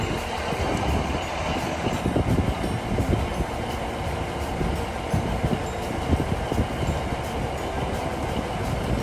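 A Pendolino train on West Coast main line service rumbles past near Carlisle, a continuous loud roar of rolling wheels and carriages with faint rhythmic clatter.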